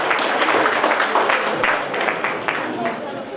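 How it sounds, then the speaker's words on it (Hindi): A full hall applauds to welcome a guest at a women's gathering, dense continuous clapping with voices mixed in throughout. "पूरा सदन जोरदार तालियां बजा करके इनका वेलकम और स्वागत करें।"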